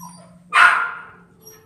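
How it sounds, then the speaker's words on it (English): A small dog lets out a single sharp bark, close and fairly loud, standing alone after a brief quiet moment with a faint hum in the background. "a dog like Woodruff here would most likely get adopted pretty quickly"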